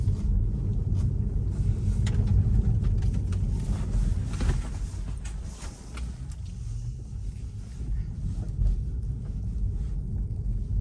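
A Tesla on FSD Beta 10.8 rolls along a street, giving a steady low road rumble and tyre noise with a faint hiss of passing air, continuous and fairly close throughout.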